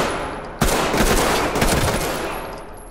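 Sustained automatic gunfire from hostile fighters in the tactical shooter Ready Or Not bursts in loud and close after a brief lull, rattling continuously for several seconds with no talk over it.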